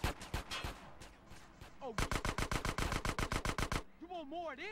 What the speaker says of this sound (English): I'm out of ammo on my machine gun